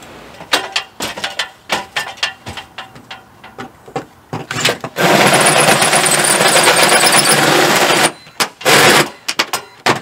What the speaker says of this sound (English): I got to go outside and drill that from the other side.